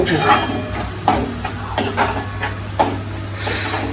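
Spices are stirred together in a bowl for vangyache bharit, with a spoon scraping and clinking against the dish in irregular taps, close up, while someone talks quietly in the background.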